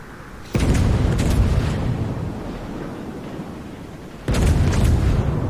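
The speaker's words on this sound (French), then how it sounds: "Allez, 2 tirs à salve très rapprochés." Two closely spaced warship gun salvos in World of Warships, each a loud deep booming blast that rumbles and decays, the second arriving a few seconds after the first over a low ambient roar.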